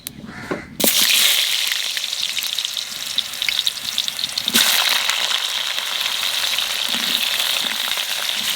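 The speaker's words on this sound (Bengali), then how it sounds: "আস্তে আস্তে আমি আলুগুলো ভেজে নিই।" Potatoes fry in hot oil in a home kitchen. The loud, steady sizzle starts abruptly after a brief quiet moment and continues throughout, with occasional stirring.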